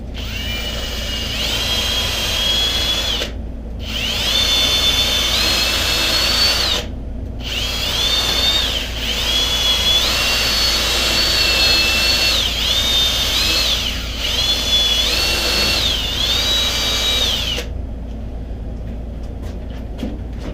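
A loud power drill whining at high speed while cleaning out old basement pipes, running in long bursts with brief pauses and shifting pitch as it bites, then stopping abruptly.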